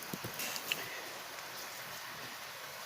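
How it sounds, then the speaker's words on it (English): Rain falling on a cool night, heard from indoors near an open window: a soft, steady hiss of rainfall that stays even throughout, with a few faint early patters and no talking. "chose a cool, rainy night for this video."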